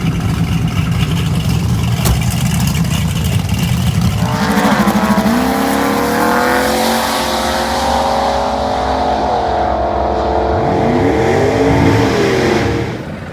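A big block race car roars past at close range, loud engine revving with a rising then falling pitch as it passes, then more engine sweeps and revs from other cars before the sound dies away near the end.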